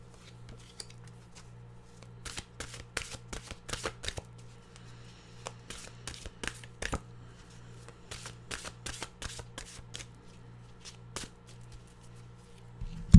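Close, brisk shuffling of a deck of Mystical Wisdom oracle cards, with repeated riffling and slapping bursts in an irregular rhythm over a faint steady hum.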